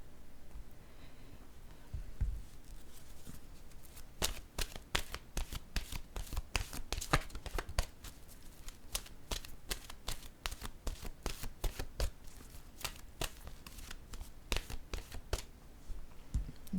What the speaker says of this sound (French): je vais piger une carte de mon oracle de l'âme intuitive.